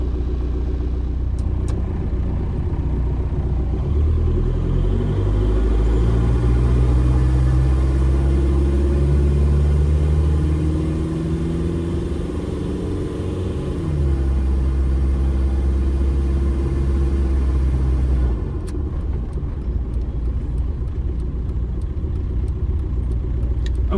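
A diesel Jeep Wrangler TDI with an AW4 automatic transmission and a new torque converter drives off, its engine a steady loud rumble that rises and shifts in pitch as it pulls away, then settles, with no talk.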